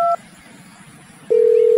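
Cartoon telephone dialing: a brief pair of keypad tones opens, a quiet pause follows, then a steady loud electronic tone holds to the end, alone without talk.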